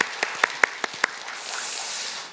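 A church congregation applauds during a Sunday worship service, a few sharp separate claps near at first, then a softer, steady spread of clapping from the crowd.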